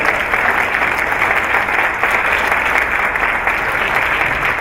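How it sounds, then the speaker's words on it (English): A school-district audience applauds its early education staff at a State of the District event, steady loud clapping from many hands filling the room throughout. "All of our early ed folks, please do a round of applause."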